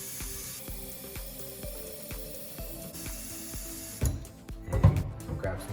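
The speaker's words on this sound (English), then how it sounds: "So I'm just gonna put some water in here." Water poured into an IK Foam Pro 2 foam sprayer bottle starts as a hollow rising gurgle that climbs in pitch, then turns into splashier bursts toward the end.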